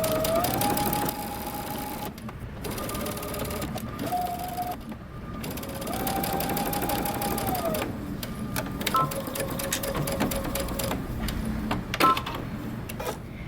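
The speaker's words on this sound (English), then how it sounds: "we're going to sew those together" An electric sewing machine stitches a 3/8-inch seam on a garment's center front and side front pieces, running in several whirring bursts with short pauses and back stitching, clear and close with no talking.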